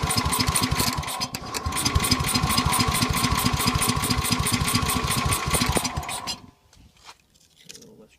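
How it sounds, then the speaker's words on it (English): Small engine with a freshly cleaned carburetor, prepped for a plow day, runs loud and steady with a fast, buzzing rhythmic firing for about six seconds, then cuts off, leaving quiet handling noises. "Let's give it a little gas. I have no idea if this carburetor's any good."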